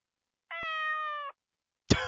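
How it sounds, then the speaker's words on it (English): A cat in the Escape Trick puzzle game gives one clear, drawn-out meow, close and clean against silence, followed by the start of a second sharp cry. "What's a cat doing in a hotel?"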